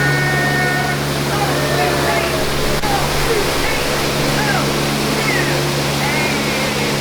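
Steady rushing waterfall at the backside of water on the Magic Kingdom Jungle Cruise ride, a constant broadband roar with a low boat-engine hum underneath and faint voices mixed in.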